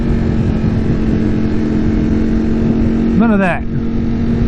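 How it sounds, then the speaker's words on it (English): A 2021 Ducati Streetfighter V4S motorcycle fitted with an Akrapovic exhaust runs with a steady, loud engine drone throughout, ending in a brief rising rev blip, while a voice talks over it. "So the full sound and beauty of this motorcycle can be experienced."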